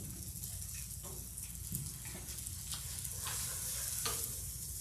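Pumpkin puree, made from roasted and blended pumpkin, being stirred in a hot pan, with a steady soft sizzle and scraping strokes of the utensil throughout, no talk.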